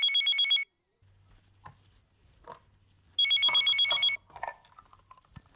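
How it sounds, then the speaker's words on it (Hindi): Telephone ringing in two bursts of bright repeated trills, with a quiet pause between them and faint sounds around them, as a police office phone rings before it is answered. "और फोन उठाओ।"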